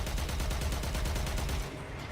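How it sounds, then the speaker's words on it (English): Heavy torpedo barrage launched from a Railjack spaceship in the video game Warframe, a dense rumbling volley of rapid booming blasts that continues steadily for about two seconds before tapering off. "Fire torpedoes."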